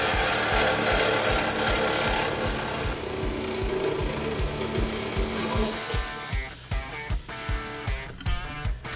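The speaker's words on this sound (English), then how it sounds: "Nothing better than sawzalling your rig." A reciprocating saw cuts wood inside an RV during repairs, a fast buzzing rasp that runs continuously and then breaks into short, choppy bursts toward the end.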